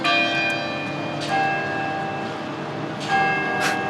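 Bells chime a doorbell-like melody along Mission Inn Ave, several ringing strikes spaced across a few seconds, each tone lingering and decaying over a steady background.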